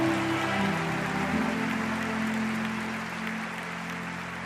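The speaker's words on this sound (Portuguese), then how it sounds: "Forte aplauso, Vitor Hugo vai estar com a gente mais tarde" Sustained applause from a church conference audience, a dense, steady wash of clapping that fills the room and slowly tapers, with low musical tones sounding underneath.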